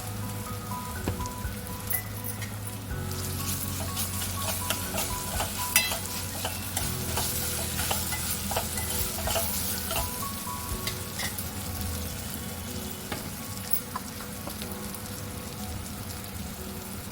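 Spiny bitter gourd frying in a pan with ginger garlic paste, giving a steady, close sizzle with frequent scraping and stirring clicks throughout, no voices.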